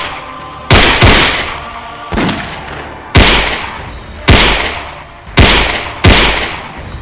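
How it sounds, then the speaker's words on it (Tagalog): Loud gunshots crack out one after another in an irregular sequence, about eight blasts, each echoing and fading before the next. "Mga putok ng baril."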